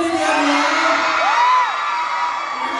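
A crowd of fans at a concert shouting and cheering together in a loud, sustained roar, with a rising whoop standing out partway through.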